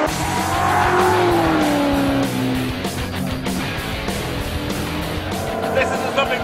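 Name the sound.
South African-made Superformance GT40 racing car driving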